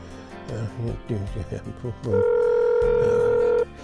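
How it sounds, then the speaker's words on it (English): A telephone being dialed to call someone: a steady electronic phone tone holds for over a second after a stretch of voices and music-like chatter, loud and close. "In just a second here, I got to dial him up here."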